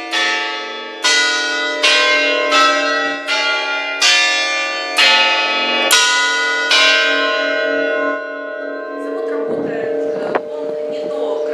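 Church tower bells cast by Richard Phelps in 1730, hanging in the leaning tower of Nevyansk, Russia, strike in a slow, evenly spaced sequence of resonant tolls that ring out loud and close, then fade into lingering hum.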